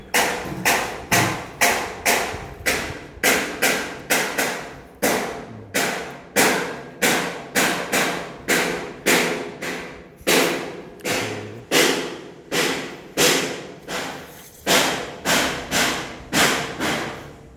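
Loud metallic banging rings out in a steady rhythm, about one strike per second, each hit echoing in a car body-building workshop with a constant background hum.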